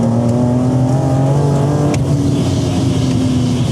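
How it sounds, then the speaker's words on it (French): A supercharged car engine of over 500 horsepower drones loudly and steadily at close range, a continuous throaty tone with a slight pitch shift midway and no speech over it. "vous avez ce qu'on appelle l'agrément moteur du compresseur"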